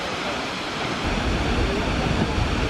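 Rushing waterfall in southern Iceland, a steady broadband roar of falling water that swells louder after the first second and holds constant, with no voices over it.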